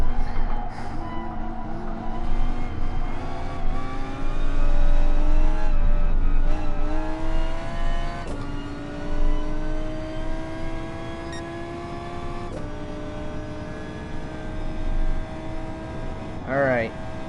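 Gr.4 and Gr.3 race cars in GT Sport roar through repeated upshifts at Brands Hatch or Willow Springs, engine pitch climbing and dropping sharply at each gear change, loud and continuous, with a brief tire squeal near the end.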